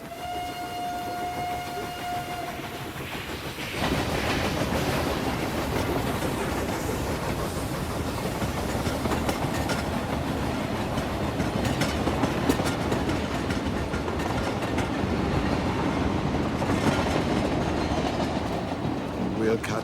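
A train rumbles and clatters steadily on the rails after a brief quiet start, with people talking over the continuous noise.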